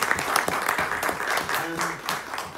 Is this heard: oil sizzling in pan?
no